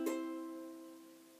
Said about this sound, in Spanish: el acorde de do es en la primera cuerda en el tercer traste